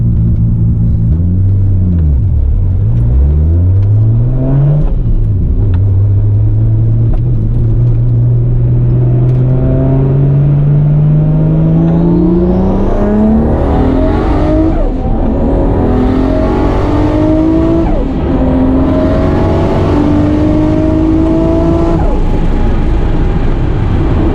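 A high-horsepower race car, lined up against a Lamborghini, accelerates hard in a roll race. The engine roars loud and close without a break, its pitch climbing steadily through the gears with brief shift dips, and no talking.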